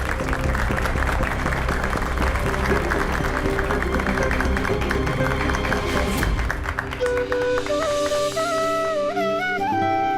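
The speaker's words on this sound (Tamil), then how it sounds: "ஏ பீம், வா வந்து கைத்தட்டு." Crowd applause from an assembled group in a Tamil TV drama scene about Dr. Ambedkar, dense steady clapping through the first six seconds before giving way to music with held tones.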